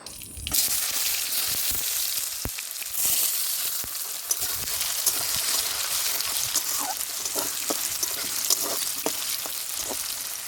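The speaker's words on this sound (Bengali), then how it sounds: "তেলটা গরম হয়ে গেলে দিয়ে দিতে হবে দু তিনটে শুকনো লঙ্কা একটা তেজপাতা আর একটু কালো জিরা" Dried red chillies, a bay leaf and nigella seeds hit hot oil with a sudden loud burst of sizzling that settles into steady crackling frying, with occasional stirring clinks.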